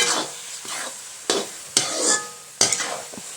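A spoon stirs and scrapes a thick Kerala-style jackfruit preserve cooked with ghee in a pan. Several sharp scraping strokes come at irregular intervals over a soft sizzle, close and moderately loud.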